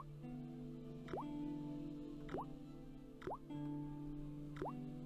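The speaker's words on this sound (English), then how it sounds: "The slow drip of water barely dampened the towel." A rusty faucet drips slowly in the Broken Sword video game, four evenly spaced plopping drops falling over a steady low hum, each a clear rising bloop.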